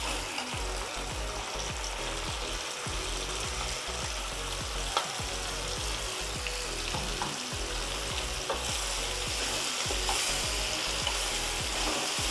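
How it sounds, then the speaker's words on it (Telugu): A ground paste of tomato, onion, cashew, cinnamon, clove and cardamom fries in a pan for a paneer curry, with a continuous loud sizzle and repeated stirring scrapes and no voices. "ఇది ఒక 2 నిమిషాల పాటు ఏగాల"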